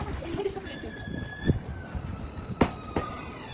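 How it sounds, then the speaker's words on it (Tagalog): An old train rumbles by on the rails with a few sharp metallic clanks and faint squeals, while voices murmur in the background of a busy Tokyo station. "Lumang tren."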